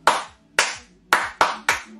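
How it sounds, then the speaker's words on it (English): Five sharp hand claps, close and loud, in an uneven rhythm with a short gap between the first two and quicker claps after, with no talking. "The clap,"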